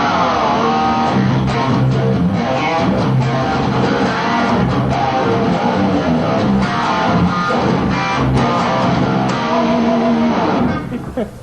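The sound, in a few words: Steinberger guitar, tremolo lowered, heavy thrash chugging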